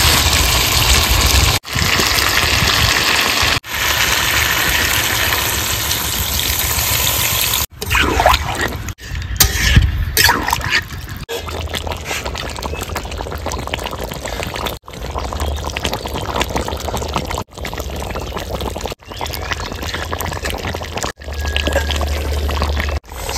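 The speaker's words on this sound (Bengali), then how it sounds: "এই পর্যায়ে আমি দিয়ে দেবো জল।" Water is poured into a pot of chicken curry that has been cooked down and is sticking to the bottom, a steady, loud gushing pour broken by brief gaps, with sizzling and stirring noises in between.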